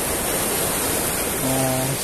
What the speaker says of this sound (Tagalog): May bagsakan ng alon. Medyo malapit lang.